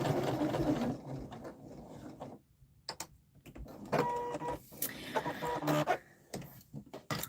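Sewing machine backstitching a dress seam, heard as short mechanical whirring bursts broken by pauses and clicks, close by and moderately loud with no talking.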